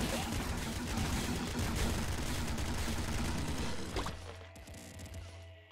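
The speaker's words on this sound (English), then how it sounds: "Frost bullet flak cannon. Okay, that is just... It does just fire bullets." A frost bullet flak cannon fires in the Nuclear Throne game, a dense rapid barrage of gunfire bursts that continues for about four seconds, then stops, leaving quieter game sounds.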